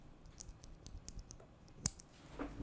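Mechanical keyboard switches fitted with 67-gram Helios springs are pressed one by one, a run of light, quiet clicks and clacks at an uneven pace, with one sharper, louder keystroke near the end.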